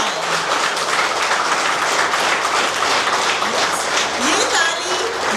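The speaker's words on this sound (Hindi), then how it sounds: "ये ताली VLS के लिए हम सुबह से बजा रहे हैं" A crowd at a get-together gives sustained, loud applause, a thick wash of clapping that stays even from start to finish while voices carry faintly beneath it.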